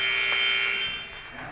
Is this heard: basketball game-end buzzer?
yes